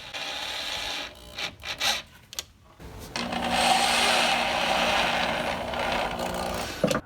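A few short scraping bursts, then a steady grinding whir of a screw being driven into wood, close and continuous for several seconds.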